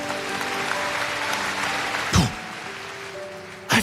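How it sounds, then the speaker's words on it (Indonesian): A church congregation claps during a sermon, a moderate wash of applause with music or hum underneath, broken by two brief louder thumps. "Kasih tepuk tangan untuk Tuhan."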